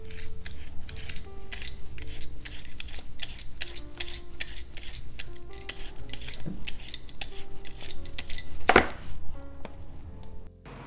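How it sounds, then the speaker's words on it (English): Potatoes being peeled by hand for a roast lamb dinner, a steady run of close, crisp scraping strokes with small clinks, one louder clatter near the end, and no talk. "I'm going to start peeling these potatoes."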